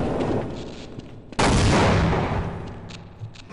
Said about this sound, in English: Okay, last grenade.